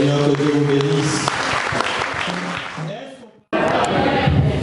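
A church congregation claps and cheers to acclaim the Lord at a thanksgiving Sunday service, with dense, steady applause and mixed voices. It cuts out briefly near the end, then resumes just as full.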